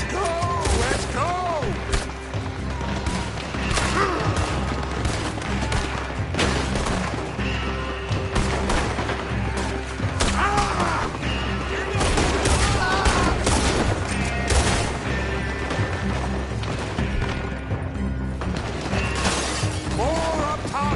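Dense video game gunfire rattles almost continuously, with bursts, shattering and booms layered throughout a shootout, loud and close, while voices shout over the action.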